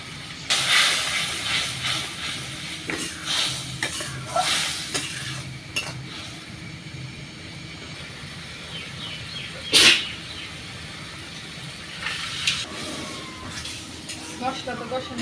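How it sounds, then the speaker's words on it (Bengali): Ground spices with salt, turmeric, chilli and coriander powder fry and hiss in a pan in a village kitchen, with stirring scrapes and bursts of louder sizzle, a voice talking faintly at times. "মশলা তো কষানো শেষ"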